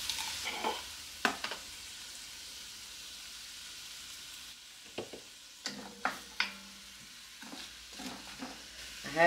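Vegetables sizzle softly in bacon fat in a soup pot over medium-low heat, with several scraping stirs and clinks of a spoon against the pot over a steady quiet hiss.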